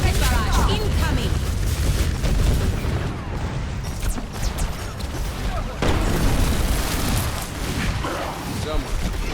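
Rocket barrage in the Overwatch video game: a dense, continuous volley of booming explosions and rapid blasts, loud and close, pounding on without pause and briefly thinning before surging again.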